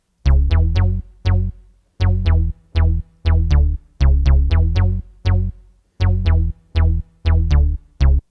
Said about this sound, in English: if you use a 303, of course you need to use a 303 bass